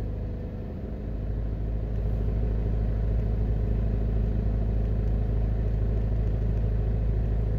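A car drives through a fast-growing Jamaican neighbourhood with areas under construction, its engine a steady, close low rumble throughout with no talking.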